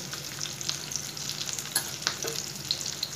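Hilsa fish frying in hot mustard oil gives a steady, close crackling sizzle, broken by a few sharp pops and spits, with no voices.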